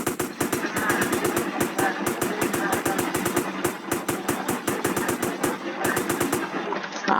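Rapid bursts of AK rifle fire in a GTA game, with long automatic strings of close, loud shots broken by brief pauses and a short gap near the end.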